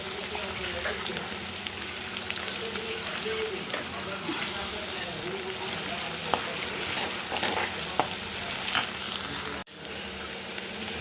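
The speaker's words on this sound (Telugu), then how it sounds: "ఉల్లిపాయలు అయితే వేగిపోయినాయి." Onions sizzle and fry steadily in a pan, with occasional stirring scrapes and crackles close by, continuous throughout with a brief dropout near the end.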